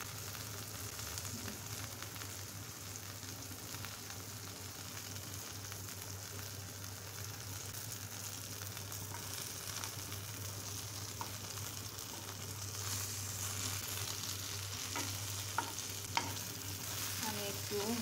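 Thick slices of eggplant fry with spices in a pan, giving a steady, quiet sizzle that runs unbroken for the whole stretch.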